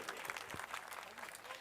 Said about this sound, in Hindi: एक बार जोरदार तालियां बजाएंगे हम सभी